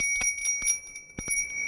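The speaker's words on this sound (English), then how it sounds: "Proper ring of that bell." A hand bell is rung with quick, repeated clangs that ring on with sustained metallic tones, loud and close with no talking.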